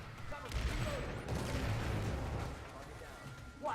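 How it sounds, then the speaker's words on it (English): A heavy gun firing in a PlanetSide VR training room, video game: deep, booming blasts with rumbling tails that stay loud and continuous, ending in a sharp final report. "One of these guns can do a lot of damage to infantry, 2 of them kills every infantry in 1 shot."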